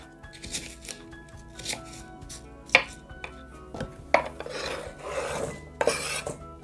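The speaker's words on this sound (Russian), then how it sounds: "Яблоко мы тоже нарезаем кубиками и складываем в одну миску к тыкве." An apple is cut into cubes with a knife on a board, giving a handful of sharp chops among quieter rasping slices, close and clear with no talking.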